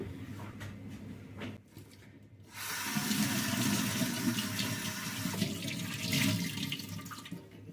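Kitchen tap runs steadily to wet spoons, a broad hiss of flowing water that starts after a brief pause and continues loudly to the end, with shifting splash texture.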